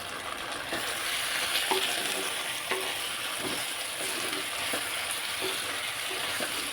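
Steady sizzling of drumsticks frying in a pan with tomatoes, with occasional scraping knocks from stirring, continuous and fairly close.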